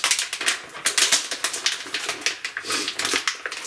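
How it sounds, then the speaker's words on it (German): A resealable plastic bag of walnut kernels is opened, giving a run of crinkly crackling and rustling bursts close up, with no talk. "Tüte öffnen."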